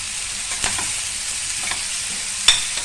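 Onions fry in a pan with turmeric and basic masala, giving a steady, fairly loud sizzle broken by a few sharp scrapes and clinks of stirring.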